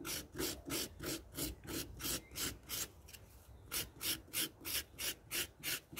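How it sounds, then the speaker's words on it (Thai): Coconut flesh scraped on a grater in a Thai kitchen, a quiet, close, regular rhythm of raspy strokes, about three per second, with a brief pause midway. "เราขูดไปเรื่อยๆจนหมดลูกเลยนะคะ"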